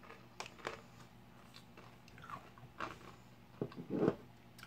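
Buck Wild Ranchero Cheddar tortilla chips crunched close up, several sharp bites and chewing crackles, sparse at first and then louder in a quick burst near the end.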